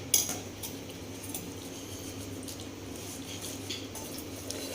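A spoon presses and scrapes a golgappa mixture through a metal sieve: a sharp clink at the start, then faint, soft scraping and light clinks over a quiet kitchen background.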